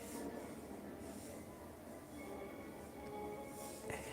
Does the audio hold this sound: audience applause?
no